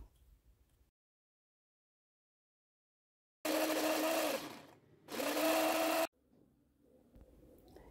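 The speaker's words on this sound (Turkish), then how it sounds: "Rondodan ince ince çekiyorum." A rondo food chopper finely grinds walnuts in two loud whirring bursts, the first about one and a half seconds and the second about a second, with quiet gaps around them.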